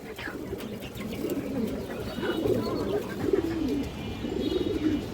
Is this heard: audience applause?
no